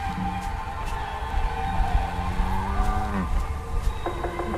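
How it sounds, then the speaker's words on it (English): A creature in the Zoonomaly zoo horror video game lets out a long, drawn-out moo over a busy background of game noise, with a separate clipped electronic tone near the end. "Did that thing just moo?"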